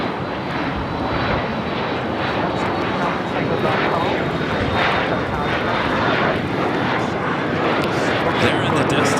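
A LATAM Airlines Boeing 767-300ER jet in Elan livery at Los Angeles airport, a steady broadband engine roar sustained throughout, heard at some distance with voices talking over it.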